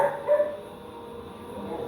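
A dog barks once or twice close by, short and fairly loud, during a Phillies–Braves baseball game broadcast, then a steady background hum carries on without further barking.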